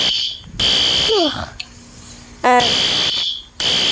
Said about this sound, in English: I heard the fire alarm go off.